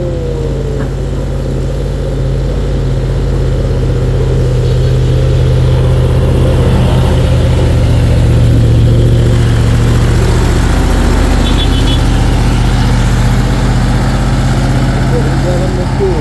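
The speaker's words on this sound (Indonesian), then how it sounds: "truk 2 unit bermuatan batu dan truk kembar 96 sama 96" Two stone-laden trucks, including twin trucks, labour up a hill road at Bukit Kodok, a steady mid-pitched engine drone running throughout under ongoing talk.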